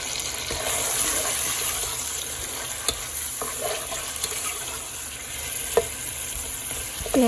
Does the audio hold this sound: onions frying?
yes